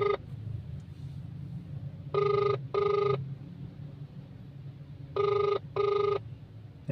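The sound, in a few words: phone ringing while calling someone again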